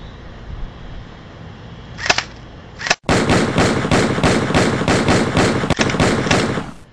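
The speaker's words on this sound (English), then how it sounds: "First, I want you to shoot at the far left tree down there." Rapid automatic gunfire from a first-person shooter video game, preceded by two sharp single shots, then a sustained loud burst of fast repeated shots lasting several seconds, with no talk over it.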